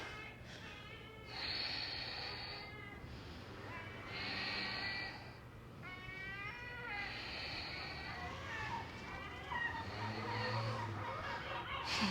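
Birds call near a city rooftop, giving several drawn-out, wavering cries in separate bursts over a steady low hum of traffic.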